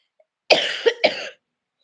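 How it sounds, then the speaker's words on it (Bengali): A person coughing heavily: two harsh, close coughs in quick succession, loud against an otherwise silent background. "প্রচন্ড কাশি একদম"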